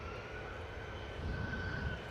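Electra Airlines Airbus A320 at London Stansted Airport, a faint, distant steady engine roar with a thin whine, rising slightly in rumble toward the end, with no talk.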